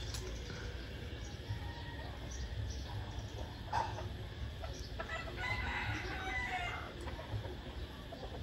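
Garden chickens on a rural Vietnamese homestead, with a rooster crowing and hens clucking in the distance over steady outdoor background noise.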